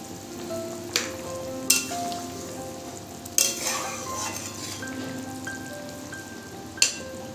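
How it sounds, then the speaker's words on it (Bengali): Pomfret fish sizzles steadily in a pan as it fries, with occasional sharp clinks and spatters over the hiss. "আর এদিকে আমি ছেলের জন্য ভাজছি হচ্ছে পমফ্রেট মাছ"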